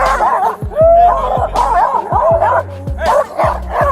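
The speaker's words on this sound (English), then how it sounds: "The dog snarled and lunged at officers during the encounter" An agitated dog barks repeatedly in sharp bursts mixed with whimpering yips during a tense police encounter, loud and close, with brief human voices underneath.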